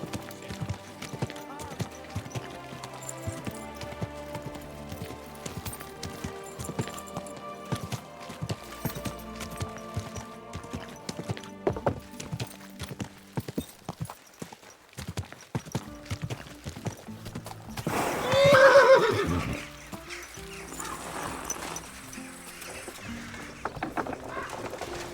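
In the video game Kingdom Come: Deliverance 2, horse hooves clip-clop in a steady rhythm for a long stretch, with a louder breathy snort or whinny partway through, over a faint musical backdrop.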